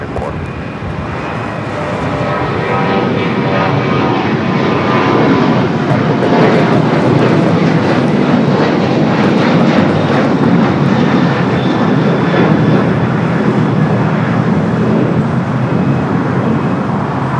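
An American Airlines jet, flight 3124, taking off from runway 25 right at LAX: a loud, sustained engine roar that builds over the first seconds, then holds steady and close for the rest of the clip.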